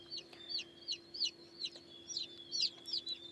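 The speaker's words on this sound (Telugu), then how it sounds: "ఇవి రీసెంట్గా పుట్టిన చిన్న కోడి పిల్లలు అనమాట" Newly hatched country chicks cheep in a steady run of high, quick peeps, about three a second, close by over a constant low electrical hum.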